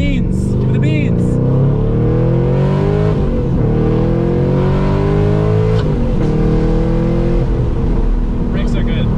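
A 900-horsepower Barra-engined GT350 pulls hard under full throttle, its engine note rising steadily in repeated climbs through the gears, loud and close from inside the car, with people talking over it.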